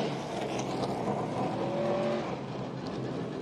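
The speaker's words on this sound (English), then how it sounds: "I didn't think he'd quit on his straight line burnout." A race car does a straight-line burnout at a 2021 ARCA Menards Series race at Mid-Ohio, making a steady, dense roar of engine and spinning tyres heard from a distance with no clear breaks.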